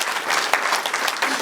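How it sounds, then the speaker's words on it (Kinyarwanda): Loud applause from a crowd at a traditional Rwandan wedding betrothal ceremony, dense continuous clapping from many hands filling the whole short moment, close and full. "Amashyi menshi rwose"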